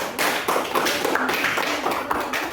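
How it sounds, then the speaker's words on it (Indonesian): Students in a classroom clap for a presenting group, a dense, continuous patter of many hands close by, steady throughout and with no voices over it. "tepuk tangan dulu untuk kelompok 3"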